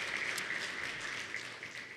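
Church congregation applauding its worship leaders on a morning service, a steady, even wash of clapping at moderate volume that fades slightly toward the end.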